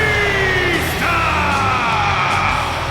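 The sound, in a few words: wrestling crowd cheering, from a video game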